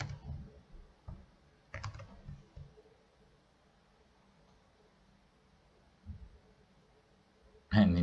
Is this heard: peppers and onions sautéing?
no